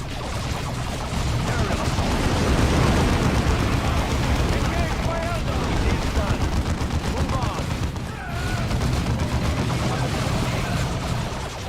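Dense squad gunfire in Warhammer 40k Dawn of War II, with rapid rattling bursts and booming impacts running almost without pause against Eldar and Orc forces, loud and close, with voices under the din.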